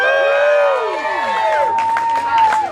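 A live audience at an inspirational talk cheers on cue with whoops and rising shouts that blend into crowd noise and clapping, loud and close, with a voice ringing above the mix.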